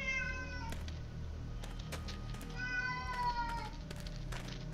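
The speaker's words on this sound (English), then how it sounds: "Oh, hey, Trapper. Meowing again, I see" A cat named Trapper meows repeatedly in the video game The Dead Linger, drawn-out descending meows in two clear bursts over a low background hum, fairly close and alone.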